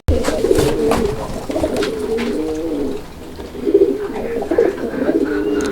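Pigeons coo in soft, rolling bursts close by at a pigeon sale, repeating through the stretch with some rustling and faint background noise.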